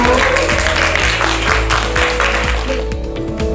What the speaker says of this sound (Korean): 큰 박수로 격려 부탁드립니다.